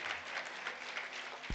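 Event attendees at an African internet freedom forum clap steadily in a brief, even spell of applause heard at moderate distance.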